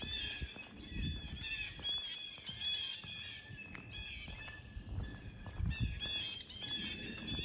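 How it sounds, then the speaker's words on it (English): Many harsh, raspy blue jay squawks repeating in overlapping bursts throughout, several birds calling at once, fairly close and loud against low rustling, on a trail in Illinois. "those are blue jays. And there's a lot of them here."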